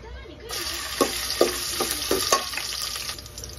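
Garlic sizzles in hot cooking oil in a pan, a steady frying hiss punctuated by several sharp stirring scrapes and clinks at roughly half-second intervals.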